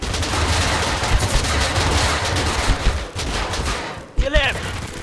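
Gunfire in the battle-royale game Totally Accurate Battlegrounds: dense, continuous shooting bursts through the whole clip, loud and close, with a brief pause and a sharp crack near the end.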